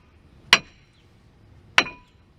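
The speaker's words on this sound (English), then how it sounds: "just give it a couple taps right here with a big hammer" Two sharp metallic hammer strikes on a brake rotor held by a lug nut on a Dodge Caravan, spaced over a second apart, each ringing briefly with a bright clink before fading into quiet.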